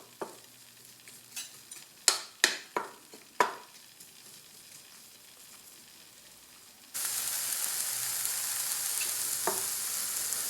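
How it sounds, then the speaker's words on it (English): Vegetables sauté in a pan over medium heat. A few sharp utensil taps and stirring knocks sound at first, then a steady, bright sizzle rises and continues to the end. "So sauteing these vegetables at medium heat will take about 5 minutes."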